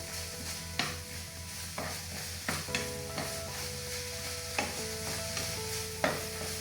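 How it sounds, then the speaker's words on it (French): Beef and zucchini sizzle steadily in a hot pan, a continuous frying hiss broken by several sharp scrapes and clacks of stirring utensils; no one speaks. "Ça chauffe bien, notre viande est quasiment cuite, parfait."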